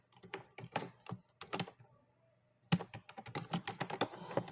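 Code being typed into a C program on a computer keyboard: bursts of close, crisp key clicks, a short pause midway, then a faster steady run of keystrokes.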